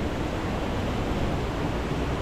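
A waterfall pours over rock right beside the Kundeshwar temple in Badlapur, giving a steady, dense rushing wash of water that holds even and fairly loud throughout with no pauses.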